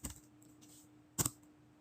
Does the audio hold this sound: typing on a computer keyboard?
yes